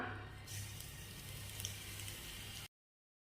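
Wheat rava roasting in ghee in a pan gives a steady, soft sizzling crackle that runs evenly for a couple of seconds before cutting off into silence.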